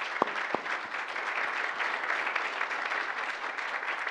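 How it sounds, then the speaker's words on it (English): Symposium audience giving speakers a sustained round of applause, an even wash of clapping from a seated crowd with a couple of sharp knocks at the start. "I would like you to give them one more round of applause"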